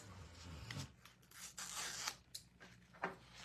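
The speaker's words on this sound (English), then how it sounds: "So I'm going to create my own cut lines." Craft paper is cut by hand along marked lines, with close, quiet bursts of scissor snips and crisp paper rustling in an irregular rhythm, and no voices.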